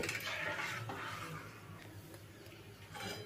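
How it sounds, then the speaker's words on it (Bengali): A spatula stirs packaged milk in a pan over medium-high flame, scraping the thickening khoya from the sides for langcha: soft, irregular scrapes and light clinks up close. "আমি এটাকে একভাবেই নাড়াচাড়া করছি আর এই সাইডে যেগুলো লেগে যাচ্ছে সেগুলো কিন্তু খুন্তি দিয়ে এইভাবে আমি চেঁচে তুলে নিচ্ছি"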